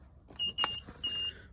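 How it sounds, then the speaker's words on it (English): A 2021 Elddis Avante 454 caravan control panel emits short electronic beeps while not connected to hookup, a few brief tones in a quiet interior. "again, beeping because we're not connected to anything."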